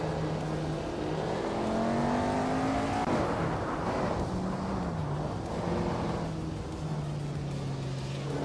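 A pack of racing cars, a Ferrari 250 Testarossa among them, drones continuously with engine tones rising and falling through gear changes, loud and steady throughout with no pauses.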